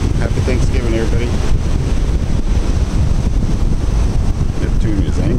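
A strong, cold wind on an ocean shore near a staircase and a cannon batters the microphone with a loud, steady roar, and surf may wash underneath. No voices are heard throughout.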